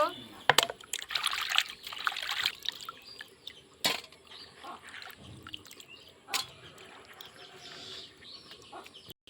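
Fish is washed by hand in water: intermittent splashing and trickling bursts with sharp knocks, heard between a person speaking, with faint birds or chickens in the background.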